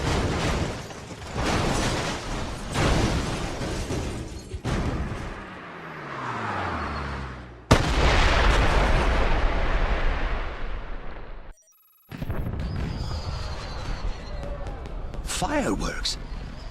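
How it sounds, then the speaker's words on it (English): Fireworks go off during a cutscene in the James Bond 007: Blood Stone video game. A series of loud booming bursts and crackles is heard, with a brief silent gap partway through. "Did you know there were going to be fireworks?"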